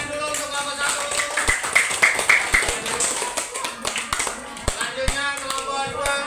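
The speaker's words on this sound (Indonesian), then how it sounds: "kasih tepuk tangan dulu untuk kelompok 1" Classroom students clapping for a student group during an elementary geography lesson, scattered close claps with sharp individual hits, uneven rather than a full ovation, with children's voices and talk mixed in.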